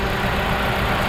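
Car engine idling with a cylinder 3 misfire, a steady close rumble with a rough, uneven pulse running through the whole short stretch, no voices.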